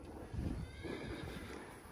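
A rescue horse gives a shrill, screaming whinny at moderate distance, rising and falling over a second or two, with faint hoof shuffling in the background.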